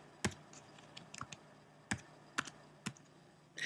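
Keys on a computer keyboard clack as an IP address is entered, a handful of separate, fairly close clicks arriving in small irregular bursts with short gaps between them, and no voices present.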